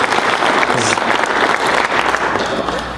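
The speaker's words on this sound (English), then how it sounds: "It really deserves a big round of applause." A round of applause from an audience at an airport board forum, loud dense clapping that holds steady for a few seconds before easing slightly.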